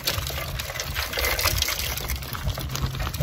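Potting soil mix poured from a ripped bag onto a seed tray makes a steady, close rushing and pattering that continues evenly throughout.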